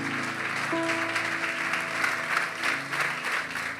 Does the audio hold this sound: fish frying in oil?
no